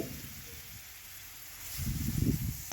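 Spices including ginger, cumin, onion, dried and green chillies, cardamom and cinnamon fry in a pan with a soft continuous hiss that swells into a louder bubbling sizzle near the end.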